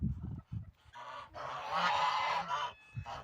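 Farmyard geese honk loudly and repeatedly in a village yard, with harsh, overlapping calls that run in a long burst and close with a few shorter honks.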